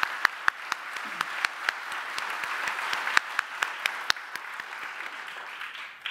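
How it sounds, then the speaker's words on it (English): An audience applauds at a Milwaukee awards ceremony: a sustained, dense clapping with a few sharper individual claps standing out. "We can applaud that."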